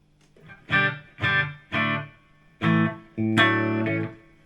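Electric guitar through a Marshall JCM2000 DSL 50-watt amp head with its reverb engaged: five loud, distorted chords struck one after another, each ringing briefly before the next, the last held longer with a reverb tail.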